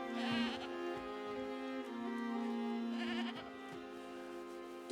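A goat in a television episode bleats in two long, wavering, nasal cries, near and fairly loud.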